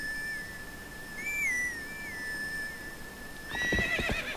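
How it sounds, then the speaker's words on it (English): In Zelda: Twilight Princess, a reedy horse-grass whistle melody plays, then the horse Epona answers near the end with a short, loud whinny and snort. "pick up some horse grass and summon our trusty steed"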